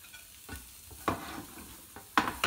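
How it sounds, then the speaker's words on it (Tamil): Ginger, garlic and onion sauté in a pan, a soft sizzling hiss broken by a few stirring scrapes and clatters, close and quiet over about two seconds. "இந்த மாதிரி கொஞ்சம் இஞ்சி பூண்டு வந்து லேசாக வதக்கிட்டு வெங்காயத்தையும் போட்டு வதக்கலாம்."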